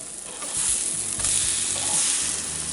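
French toast frying in a pan gives a steady, loud, close sizzle with faint scraping stirs underneath, no voices.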